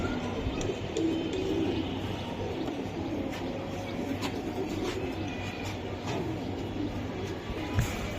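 Racing pigeons keep up a low, continuous cooing nearby, repeated throaty calls layered over a steady rumbling background with occasional clicks.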